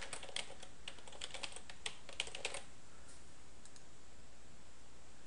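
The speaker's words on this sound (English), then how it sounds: "maybe I'll just go ahead and type my name in here" A computer keyboard clatters in a quick run of keystrokes as a name is typed into a software installer. The clicks sound close and crisp over a low hiss, then fall silent after a few seconds.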